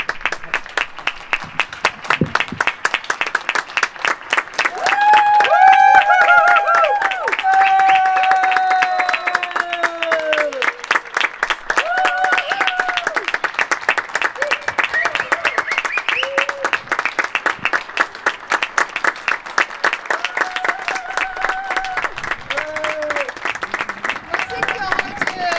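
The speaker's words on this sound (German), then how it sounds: "Das ist euer Applaus." Neighbours on balconies applauding helpers during a residential balcony concert, a steady, rhythmic clapping carried across the open air, with whoops, whistles and cheering voices rising over it throughout.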